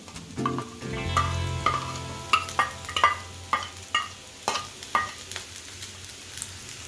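Potatoes with fried cashews and grated coconut are tossed in a pan over low flame, making a quiet sizzle punctuated by a regular series of spatula scrapes and knocks, with no voices.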